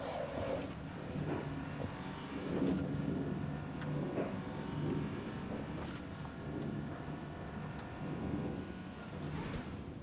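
A car driven in Fortnite gives a steady engine drone with wind-like rushing noise that holds at an even level throughout, with no clear talk over it.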